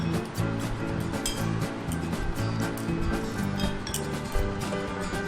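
Metal tiffin box clinking as pieces of katla fish are set into it in a home kitchen, a run of light, close taps and clinks over steady background music.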